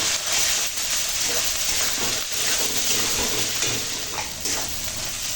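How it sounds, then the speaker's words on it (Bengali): Ground turmeric and two kinds of chili, hot and Kashmiri, sizzle and fry in oil in a pan, a steady close hiss with faint stirring scrapes. "দিয়ে এখন মশলা কষাবো।"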